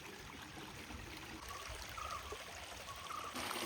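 Steady rushing and trickling of a small hillside stream in Kuttikkanam, Idukki, flowing down from above past a bathing spot. The water sounds close and continuous, with faint brief tones over it and no talk.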